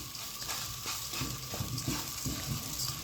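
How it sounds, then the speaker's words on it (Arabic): Rice with spices is stirred and sautéed in a pot, a soft sizzle running underneath with repeated scraping strokes of the stirring utensil, close and moderately quiet. "تبداي برضو تديله تقليبه يتشوح برضو"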